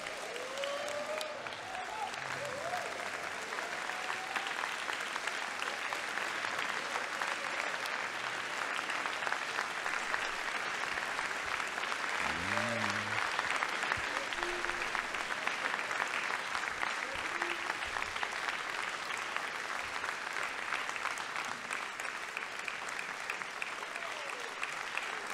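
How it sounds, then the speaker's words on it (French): A large audience applauds steadily at the Bloc Québécois 2023 national party convention, sustained clapping filling the hall for the full stretch with a brief murmur of voices mixed in. "je vous invite à les féliciter et à les applaudir"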